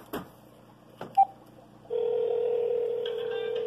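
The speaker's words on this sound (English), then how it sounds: "Should ring. Should hear a ring in the background." A telephone line's steady tone sounds after a few soft clicks and a short beep, holding continuously and shifting slightly in pitch partway through, moderately loud and without speech.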